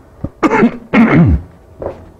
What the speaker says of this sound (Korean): 저는 이제 여기서 이제 조그맣게 기침을 한다 해도 여러분 입장에서 크게 들릴 수가 있고